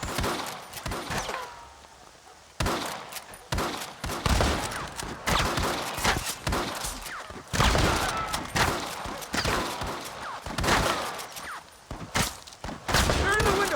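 Gunfire in the video game Red Dead Redemption, dense close volleys of repeated shots in bursts over a steady battle din, with shouting voices in between.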